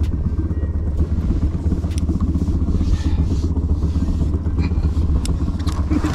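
A motorcycle engine runs steadily close by with a low, rumbling drone and faint clattering, continuous throughout.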